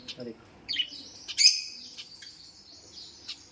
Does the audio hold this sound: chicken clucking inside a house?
no